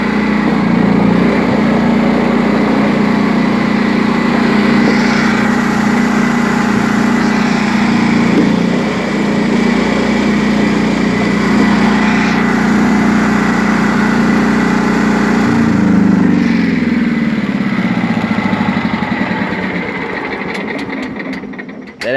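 A 1993 John Deere STX38 lawn tractor with a Kohler Command engine runs loud and close for the whole stretch, its steady throbbing pulse holding even before the tone shifts lower near the end and then cuts off.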